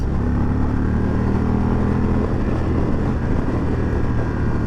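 2024 Indian Roadmaster touring motorcycle with a 116 engine pulling hard, a loud, dense, continuous engine roar with heavy low rumble and wind rush, heard from the rider's position, no voices.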